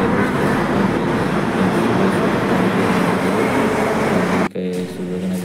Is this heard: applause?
no